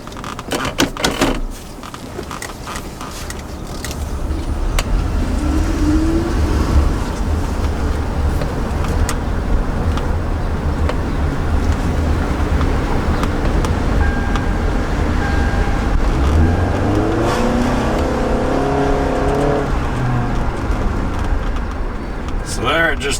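A 2009 Toyota Camry Hybrid with hybrid system faults drives under load, giving a steady road rumble and cabin drone with rising and falling whine from the drivetrain; the driver talks over it.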